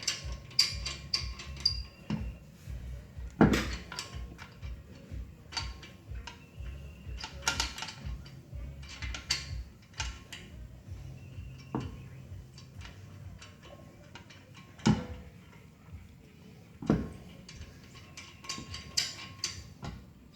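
Lug nuts are threaded by hand onto wheel studs during a front brake pad job, with sparse metallic ticks, clinks and scrapes at close range, and a few sharper knocks spread irregularly through the stretch.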